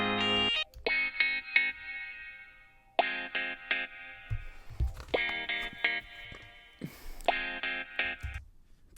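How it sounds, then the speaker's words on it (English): A processed electric guitar with wah effect playing sustained chords in bursts, with a filtered, sweeping tone and gaps of quiet between phrases. "next I did the wah guitar."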